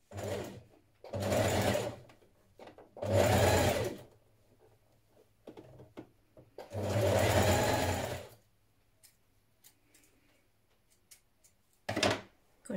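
A sewing machine stitching a sweater runs in three short, steady bursts of whirring, separated by quiet pauses, with faint handling clicks in between.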